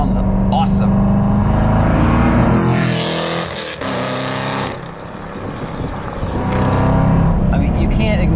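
A Chevrolet Corvette with an LT1 V8 rumbles close by, its deep engine note swelling, dipping briefly, then building again, with a voice audible alongside.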